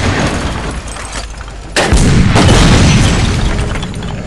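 A grenade blast in a first-person shooter match, a sudden loud broadband boom that erupts midway through steady gunfire and battle noise, with rumbling aftermath continuing afterward.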